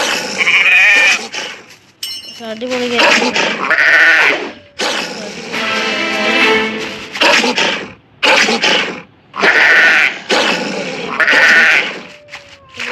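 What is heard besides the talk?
goat bleats in a mobile video game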